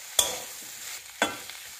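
Vegetable is stirred and sautéed in a tempering of Malvani nir phanas bhaji, with two sharp scraping strokes about a second apart over a soft background sizzle.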